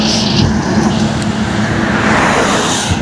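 A vehicle drives along a road through thick fog on Republic Day, its engine and tyre noise forming a loud, steady roar with continuous road rumble and no pauses.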